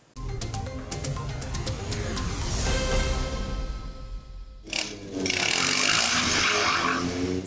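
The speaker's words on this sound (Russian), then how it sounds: "Сияющие сталью мотоциклы и восхищенные крики, танцы на одном колесе" Stunt motorcycles at a bike show perform wheelies and acrobatic tricks, engines revving and whining loudly with a sharp surge of noise partway through, no talk.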